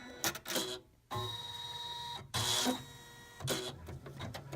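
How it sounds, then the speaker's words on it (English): An embroidery machine stitching placement stitches runs in loud mechanical buzzing bursts broken by short quiet gaps, close and alone without any voice. "Now it's going to stitch our placement stitches."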